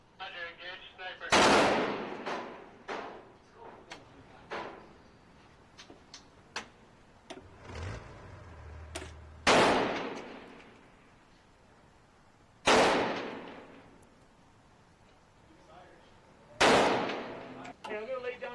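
Gunfire in a modern-day military strategy game, several sharp loud bursts spaced a few seconds apart, separated by quieter clicking ticks and faint interface sounds, no talk.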